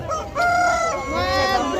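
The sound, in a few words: rooster crowing at a poultry market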